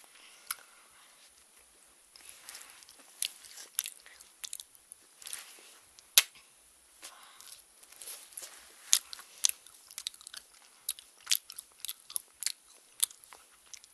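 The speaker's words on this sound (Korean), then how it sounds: "이 월드콘인데요. 지금 제가 먹고 있었어요." Someone bites and chews a World Cone ice cream cone close up, crisp wafer crunches and soft chewing sounds coming in irregular bursts over near-silence.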